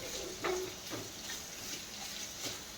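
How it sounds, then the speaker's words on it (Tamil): Onions sizzle steadily in a hot pan for chicken thokku, a soft constant hiss broken by a few scraping stirs. "இந்த வெங்காயம் வதங்கட்டும்."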